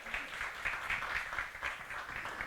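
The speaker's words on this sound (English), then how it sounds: "Let's give him a round of applause." Live audience applause in a small music lounge, a steady wash of many hands clapping at moderate volume with gentle rhythmic surges throughout.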